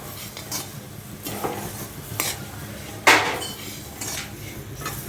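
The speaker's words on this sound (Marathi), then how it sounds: "धने आपल्याला लालसर होईपर्यंत परतून घ्यायचे भाजून घ्यायचे" Coriander seeds being dry-roasted in a pan in a village kitchen, with a steady soft rustle and sizzle, intermittent scraping stirs, and one sharper clink of a utensil against the pan, close and moderately loud with no talking.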